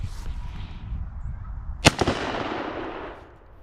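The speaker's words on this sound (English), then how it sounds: "this gun is pretty fun to shoot" A single sharp shot from a rusty gun missing its hand guard and ejector, a loud crack with a short echoing tail fading over a couple of seconds, heard alone outdoors.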